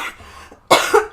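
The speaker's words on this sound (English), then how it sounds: "Sorry, I'm gonna cough again." A single close, harsh cough bursts out loudly and is followed by a brief rasp. A short, quiet stretch comes before it.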